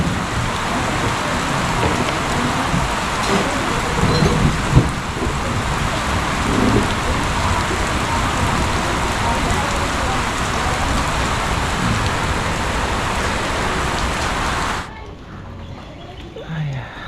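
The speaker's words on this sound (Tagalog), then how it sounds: "Ayan, hupa na ang ulan." Steady, dense rain pours down close by in a broad, even hiss, then abruptly drops off near the end, leaving quieter background with faint voices.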